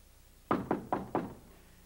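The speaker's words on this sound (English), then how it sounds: "Now, I'm just going to fall asleep, hear knocking, and open the door just like Bob did." Four firm knocks on a door in a Sesame Street scene, evenly spaced in a quick steady rhythm, close and clear against a quiet room with no talking.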